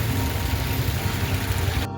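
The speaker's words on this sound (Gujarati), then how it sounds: "વરસાદ પણ જો ધોધમાર પડી રહ્યો છે" Heavy rain pours down in a steady, dense roar with a loud, continuous hiss and no voices, stopping abruptly just before the end.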